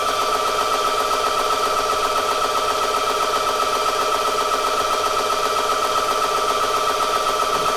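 An Umarex ReadyAir 4,500 psi PCP air compressor pump runs with its high-speed cooling fan, giving a loud, steady mechanical whir with a sustained tonal whine and rapid pulsing vibration, unbroken and close.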